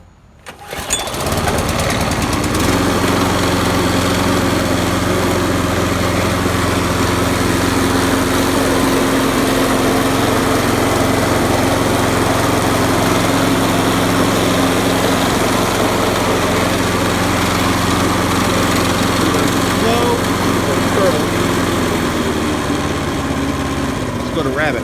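A 1995 Toro Super Recycler self-propelled lawn mower engine fires up on choke after a brief quiet start, then runs at a steady, loud, close droning idle with a slight settling in tone near the end.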